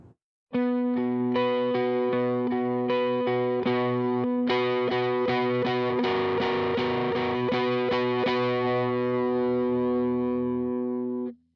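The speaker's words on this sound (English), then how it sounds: "So this is what your overdrive should sound like relatively." Chords strummed one after another on a heavily overdriven electric guitar, thick and gritty, ringing steadily with no talking.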